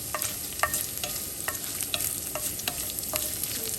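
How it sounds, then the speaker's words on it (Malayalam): Sliced coconut frying in a pan for Onam sadya koottu curry, a steady sizzle broken by regular spoon scrapes and taps about every half second, close and without talk. "നന്നായിട്ടൊന്ന് വറുത്ത് വരട്ടെ."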